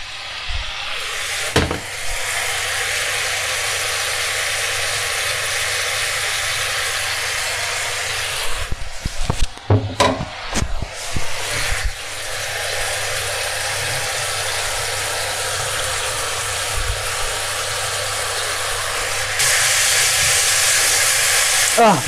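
Spicy Korean-style pork belly sizzling loudly in a pan as sauce is poured in, a steady hiss with a brief burst of crackling and clatter midway, then the sizzle continuing strong.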